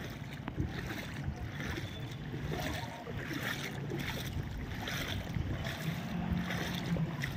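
Cars push through flood water in a waterlogged colony after days of rain, a steady wash and churn of water with surging swells as vehicles pass, close and continuous, with faint wind-like rushing.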